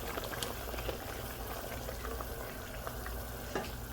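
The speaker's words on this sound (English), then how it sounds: "So the sauce is nice and bubbling now." A pot of chicken mole sauce with chocolate and chicken broth bubbles steadily, a soft continuous simmer with small pops scattered through it and no talk.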